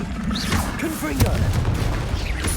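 A Confringo fire spell blast bursts in Hogwarts Legacy amid dense combat noise, with a sharp impact near the middle over a steady rumbling, crackling background.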